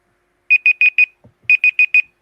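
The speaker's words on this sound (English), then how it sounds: "And that's the timer." A timer alarm goes off in two bursts of four sharp, loud electronic beeps each, separated by a short pause with a faint thump, close and alone with no talking.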